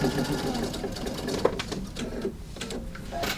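Sewing machine stitching appliqué pieces onto fabric, a steady close-up mechanical whir with rapid needle clatter that runs continuously for a few seconds.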